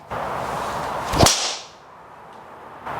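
A single sharp crack of a Titleist TSR golf driver striking a ball, loud and close, with a brief ringing tail fading over steady outdoor background noise.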